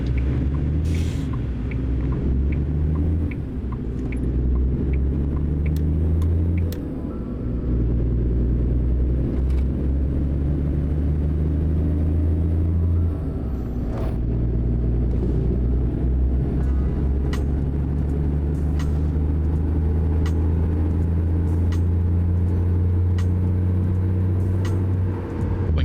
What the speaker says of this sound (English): It's just hard to express how much I just enjoy listening to the truck sounds.